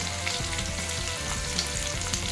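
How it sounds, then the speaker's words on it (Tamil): Sliced onions and green chilies sauté in oil in a pan with a continuous, close, busy sizzle and light crackling, broken by occasional stirring scrapes. "இப்போ வந்து வெங்காயமும் பச்சை மிளகாய் சேர்த்துக்கலாம். இதையும் நல்லா வதக்கிக்கோங்க."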